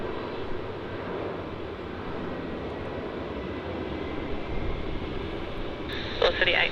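A Jetstar airliner takes off from runway 16 at Melbourne Airport, bound for Hobart, with a sustained, broad engine roar throughout and radio voices speaking over it.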